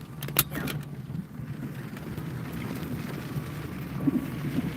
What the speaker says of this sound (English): Got some really good wind in there right now. About 35 to 40 with the gust.